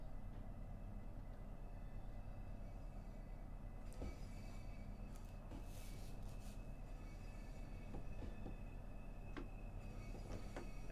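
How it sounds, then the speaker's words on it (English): Steady rumble of a train passing at a distance in Train Sim World 3, continuous low drone with scattered clicks and faint metallic squeals, no talking. "that is a train coming out the side"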